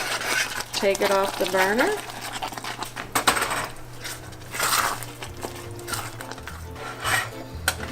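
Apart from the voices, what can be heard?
stirring coconut and pecans into cake frosting in a pot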